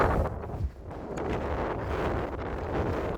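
Wind gusting across the exposed top of East Lomond hill in Fife, buffeting the microphone with a low, constant roar and one brief dip in strength.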